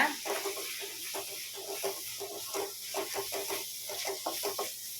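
Chili powder sautés in oil in a pan for an okra tamarind curry, a faint hiss broken by soft, rhythmic stirring scrapes.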